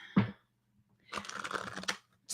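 Tarot cards are shuffled by hand at close range: a short riffle, a pause, then a longer stretch of crisp flicking and sliding cards.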